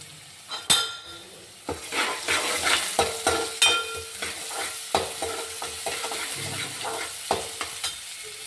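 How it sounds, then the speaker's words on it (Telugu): Ginger garlic paste fries with softened onions in a pan as it is stirred, giving a steady sizzle broken by repeated scrapes and light metal clinks of the spoon against the pan, close and without voices. "ఉల్లిపాయ ముక్కలు మగ్గిన తర్వాత ఇప్పుడు ఇందులో అల్లం వెల్లుల్లిపాయ పేస్ట్ వేస్తున్నాను."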